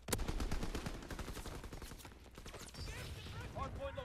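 A Grease Gun submachine gun fires in Call of Duty: WW2 gameplay, with rapid bursts of crackling automatic shots at a steady rhythm, then a pause and in-game mechanical clicks, all fairly quiet.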